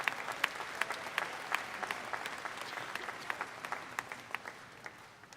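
A crowd in a livestock auction arena at a state fair applauds market goat exhibitors, with steady, moderately distant clapping and a few sharper individual claps that taper slightly toward the end.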